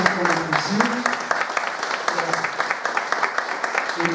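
A live audience applauds warmly at an event, steady clapping throughout with some talk and voices mixed in underneath.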